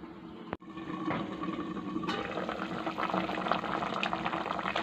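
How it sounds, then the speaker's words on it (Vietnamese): Covered pot of pork rib and bamboo shoot soup simmering on the stove, a steady bubbling and gurgling boil after a brief clunk of the lid. "Mình sẽ đậy vung lại mình nấu mọi người nhé."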